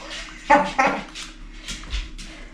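A puppy in a home gives a couple of short, close yips or whimpers, followed by faint snuffling and small movement sounds, with no talking.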